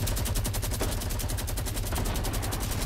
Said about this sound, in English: I got a fucking minigun.